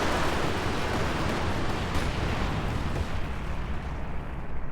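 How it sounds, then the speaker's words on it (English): Werfer barrage explosions in THE FINALS during a competitive match: a dense, continuous roar of overlapping blasts and rumbling detonations, loud and unbroken for several seconds, slowly thinning toward the end. "Here comes the Werfer barrage."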